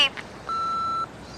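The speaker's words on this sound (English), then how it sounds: "leave it at the beep." An answering machine gives a single steady electronic beep lasting about half a second, clean and prominent after a brief bit of noise.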